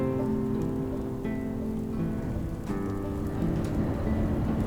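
Heavy rain pours through a windy storm on the Lofoten Islands, a dense and constant hiss and patter with low rumbling gusts, close and loud throughout, with no voices.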